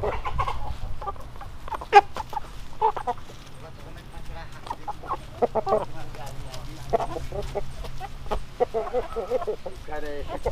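A giant Indio Gigante rooster, standing about 1.25 metres tall, clucks repeatedly in short bursts close by on a farm in Mogi das Cruzes, with people talking over and between the calls.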